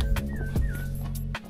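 A Gaddi dog, the local breed, gives a rising whimper and a couple of sharp yips at close range over a low steady engine-like hum that cuts out near the end.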